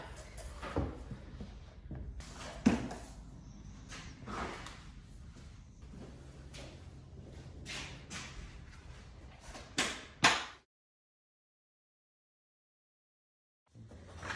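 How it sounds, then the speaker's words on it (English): Laminate floor planks with a UNILIN locking system being locked in and dropped into place in a corner, giving a series of close clicks, taps and knocks over about ten seconds before falling silent. "we're gonna lock them in and drop them in the corner"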